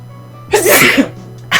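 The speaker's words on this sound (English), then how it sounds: "Every time I do a commentary, I start sneezing." A single loud, close sneeze bursts out in a sharp explosive rush, followed moments later by the start of another burst.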